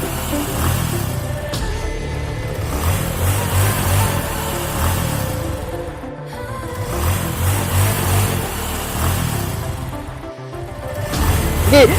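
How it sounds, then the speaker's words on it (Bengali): A car drives through floodwater, its engine droning and swelling in revs over a continuous rush and churn of water, loud and close throughout. "গাড়িতে প্রচুর পানি পাচ্ছে এবং আমাদেরকে দেখতে হচ্ছে গাড়ি আস্তে আস্তে স্পিড পাচ্ছে বন্ধুরা"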